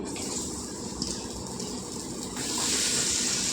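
Ridge gourd pieces fry in hot oil in a pan, giving a steady hissing sizzle with soft crackle throughout that swells slightly louder near the end.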